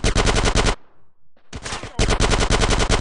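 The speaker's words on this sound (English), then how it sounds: "Get some suppressing fire in there!" Loud automatic gunfire in GTA San Andreas on mobile, two long rapid bursts separated by a short pause, close and dominant.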